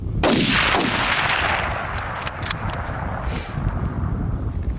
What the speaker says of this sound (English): the shot seems to have gone astray